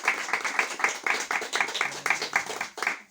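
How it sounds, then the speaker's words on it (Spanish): At a literary gathering in a Bogotá-style bookstore, the Librería Roma, a small audience claps in a fairly regular, pulsing rhythm, the individual claps close and distinct rather than blended into a roar. "Entonces recibámoslo con un fuerte aplauso."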